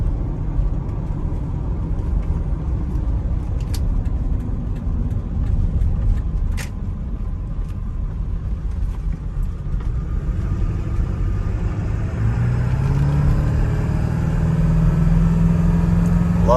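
A 2000 Ford Excursion Limited with a 7.3 engine drives along, its low steady rumble and road roar continuous and loud from inside the cab, with a rising tone near the end.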